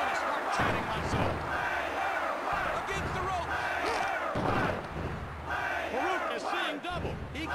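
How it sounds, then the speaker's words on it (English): Arena crowd in the 1998 wrestling video game WWF War Zone cheering and roaring continuously at a capacity event, with game commentary and impacts mixed in, loud throughout. "Listen to this capacity crowd."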